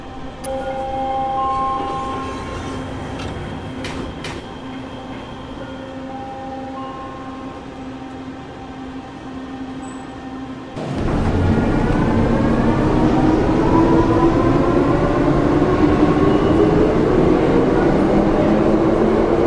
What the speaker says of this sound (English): This is an Expo Line train to